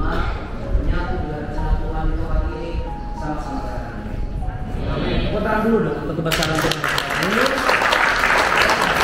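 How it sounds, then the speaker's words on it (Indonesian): A tour group claps at a church in Cairo, a moderate patter of clapping that swells and grows louder toward the end, with people talking over it throughout. "untuk tempat mujizat tepuk tangannya biasa aja gitu loh"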